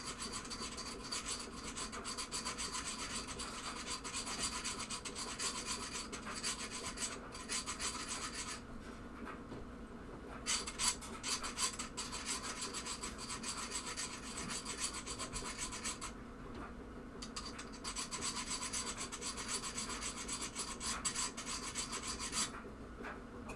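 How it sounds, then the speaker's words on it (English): A metal file rasps steadily by hand while beveling an edge during repair of a 1974 Williams Lucky Ace pinball playfield, with continuous close scraping broken by two brief pauses. "Let the file do the work."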